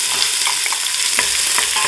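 Chopped onions sizzling in a pot for a pineapple chili soup, a bright, loud, continuous hiss with occasional stirring scrapes, close up and with no talking.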